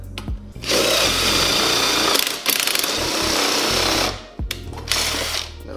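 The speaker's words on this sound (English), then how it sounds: "Piece of metal stuck on the drill," Power drill whining loudly in two long bursts with a short pause between, a piece of metal stuck on the bit, while working on a NISMO rear bumper for a Nissan 350Z; brief stops at start and end.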